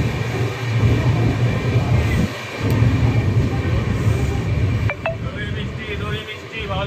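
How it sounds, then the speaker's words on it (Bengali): A train rolls into Malda Town station with a steady, loud rumble of carriages throughout, brief metallic clinks and squeals near the end, and voices in the background. "330 কিলোমিটারের জার্নি শেষ করে আমরা এখন মালদা টাউন স্টেশনে ঢুকলাম।"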